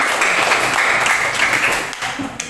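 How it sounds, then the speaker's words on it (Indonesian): Students in a high school history class applaud a presenting group, with a full, even burst of clapping that holds strong throughout and tapers slightly near the end. "Kita kasih aplaus ya kelompok."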